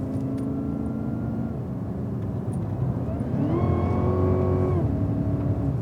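Cadillac CTS-V accelerating through a track corner, engine droning steadily then climbing in pitch and loudness as more power is fed in, heard up close from inside the car.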